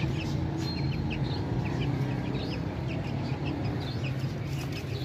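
Sindhi Aseel hen clucking, with soft repeated clucks and chirpy calls scattered over a steady broad background noise, fairly close, with no talk heard.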